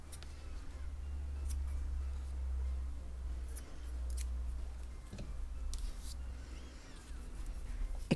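Scissors snip through crochet cotton thread while a flower doily is worked by hand, giving a few sharp, quiet cuts spaced apart over a soft background hiss, with no talking.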